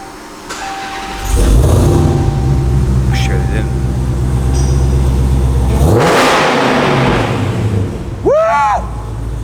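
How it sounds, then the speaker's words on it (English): A loud Nissan 350Z with a modified exhaust cranks, fires up and revs hard close by, the engine roaring and surging through its idle, while someone talks over it. "Hope they won't notice me turning the engine on."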